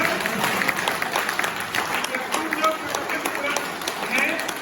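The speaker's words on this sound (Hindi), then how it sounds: "तो एक बार मेरे लिए जोरदार तालियां बजाते हैं।" A crowd gives loud applause at a Hindi-language business talk, steady dense clapping with voices audible over it.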